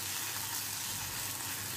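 Turmeric, coriander powder and garam masala being stirred and sautéed into paste in a kadai for dhaba-style kadai chicken, giving a steady soft sizzle with light stirring, no speech.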